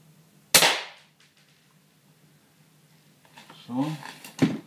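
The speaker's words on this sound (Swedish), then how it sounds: "Kör vi tredje skottet här då." A single sharp sniper rifle shot cracks close and loud, then its echo decays quickly, followed by someone speaking quietly.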